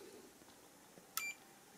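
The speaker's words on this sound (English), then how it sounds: "For very low resistances, it beeps and it reads the resistance instead of a voltage drop." A digital multimeter gives one short continuity-test beep, bright and clear, sounding once against a quiet background.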